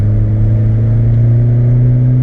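A Ford SportKa's small engine drones loud and close from inside the car, a steady humming note that rises slightly as it pulls, with no talking.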